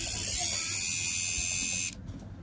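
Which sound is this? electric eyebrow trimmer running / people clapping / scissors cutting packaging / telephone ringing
electric eyebrow trimmer running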